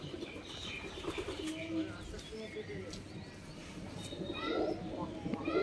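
Rajshahi pigeons coo softly in a loft, with low murmuring calls, occasional chirps and wing flutters under steady background noise and faint voices.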